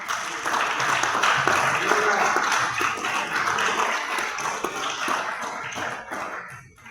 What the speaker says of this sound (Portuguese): As palmas do Senhor.